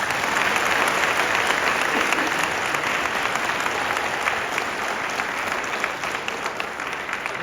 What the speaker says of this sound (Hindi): एक बार अपने लिए आप तालियां बजाते हैं